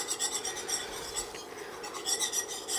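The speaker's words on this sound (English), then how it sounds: "Whisking it, making sure you don't have any lumps." Oil and flour are whisked together in a pan for a roux, making a soft, quiet rhythmic scraping and rasping that repeats in quick strokes, with no voices.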